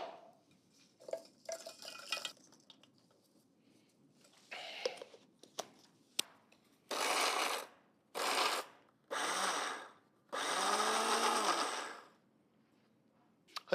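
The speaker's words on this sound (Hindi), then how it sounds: "मिक्सी में इसका पाउडर बनाना" Mixer grinder whirring in several short bursts as it powders fried makhana and grated coconut in a home kitchen, with pauses and small clatters between the loud pulses.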